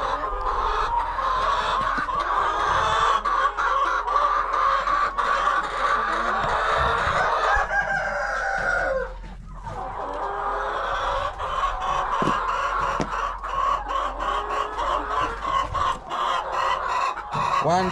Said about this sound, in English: Only the 12 chickens are now delivering. Look, you can hear the voices, guys.